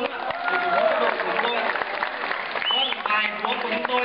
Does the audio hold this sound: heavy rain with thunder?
no